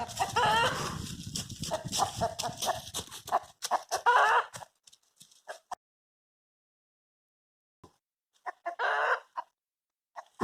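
Hens cluck and squawk around a backyard chicken coop with a rooster nearby, loud bursts of clucking near the start, then a quiet stretch before a few more calls near the end.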